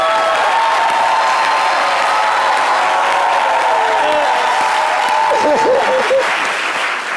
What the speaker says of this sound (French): Applaudissez-moi, parrain